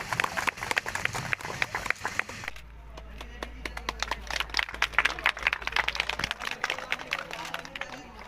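A crowd claps loudly for the chairman at a village biomass unit inauguration in Chhapri, a dense burst of many hands that carries on steadily over a low hum, with scattered voices mixed in.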